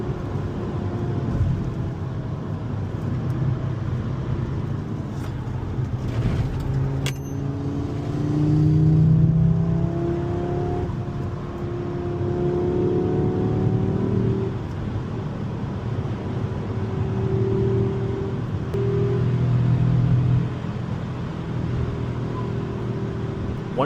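An Audi RS3 engine pulls through the gears while driving, its tone rising and falling in several sweeps beneath steady road noise, without pops or bangs on overrun; no one talks.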